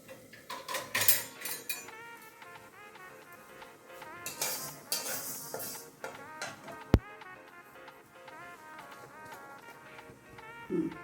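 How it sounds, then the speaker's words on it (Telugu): Fenugreek and mustard seeds dry roasting in a pan, with soft scraping and clinking of a metal spoon against the pan in intermittent bursts, one sharp knock partway through, fairly quiet and close, no talking. "మెంతులు ఆవాలు పొడిగా వేయించుకుందాం"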